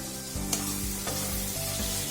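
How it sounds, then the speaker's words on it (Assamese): Small shrimp fry in a pan with a steady hiss and sizzle, broken by a few scraping stirs of a spatula, close and alone with no voices. "এতিয়া ফ্ৰাই হৈছে মিছা মাছখিনি, আহকচোন অলপ লৰাই দিম।"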